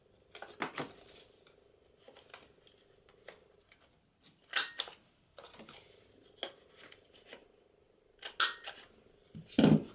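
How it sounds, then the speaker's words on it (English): A handheld corner punch rounding the corners of paper for a junk journal, several sharp close clicks and snaps spaced irregularly between quiet rustling of the paper, with no voice. "And I might round the corners on this as well"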